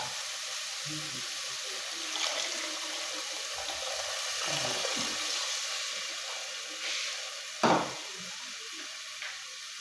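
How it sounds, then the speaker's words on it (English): Water poured into a cooking pot holding carrots and tomatoes, a continuous soft splashing and trickling over about ten seconds, with a sharper splash near the end. "Then we're going to add water."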